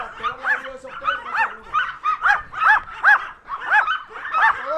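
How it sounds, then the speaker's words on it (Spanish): Several dogs bark rapidly and repeatedly at a stranger, loud and close, in a steady run of yapping barks. "Los perros xenofóbicos, ladrando de este extraño"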